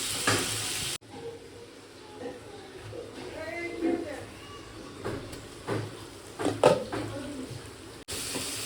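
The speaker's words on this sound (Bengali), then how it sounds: "দিলাম এর মধ্যে টমেটো, একটু নুন দিয়ে টমেটোটা একটু গলে যাক।" Tomatoes with a little salt cooking in a pan of hot oil, giving a soft, steady sizzle with occasional stirring scrapes. A voice speaks quietly over it.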